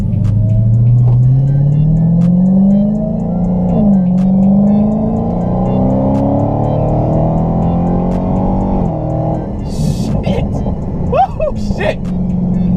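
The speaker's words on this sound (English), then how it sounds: "And we're gonna hit this exhaust one more time." Dodge Charger SRT Hellcat with supercharger accelerating hard on an empty road, its exhaust roaring loud and close as engine pitch climbs through several gears, with excited voices breaking in near the end.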